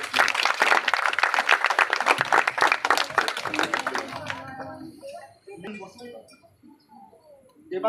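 Spectators at a felicitation ceremony for karate medal winners clap briskly for about four seconds, a close and lively burst that stops abruptly; quieter voices and small noises follow.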